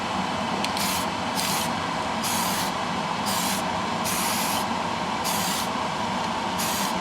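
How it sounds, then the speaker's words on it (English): Bursts of aerosol spray paint coat the last part of a Tamiya 1/6 Yamaha YZ250 motocross model, with repeated short hissing pulses over a constant rushing background, close and steady. "So we'll just spray this one last part."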